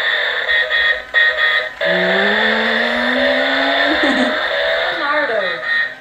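A Teenage Mutant Ninja Turtles Leonardo motorcycle bump-and-go toy plays electronic engine and pop-music effects with rising synthetic tones, loud and continuous, with brief breaks and excited talk near the start.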